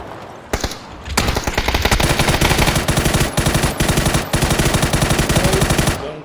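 Rapid automatic M4 rifle fire in a video game, sustained bursts of closely spaced shots after a short single report, loud and close with only brief pauses.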